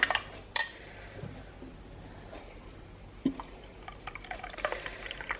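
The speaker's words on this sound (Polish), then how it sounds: "przelewam sobie sok z cytryny i dolewam ciepłej wody" Quiet kitchen sounds: a couple of sharp clinks of glass, then faint trickling and splashing of lemon juice and warm water being poured, with no talking.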